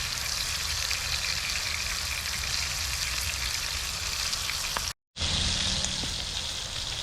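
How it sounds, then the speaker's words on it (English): A rib roast sears in a cast iron Dutch oven over a campfire, giving a steady, close hiss and crackle throughout with one brief dropout near the end. "Put it on the maximum heat for the maximum sear."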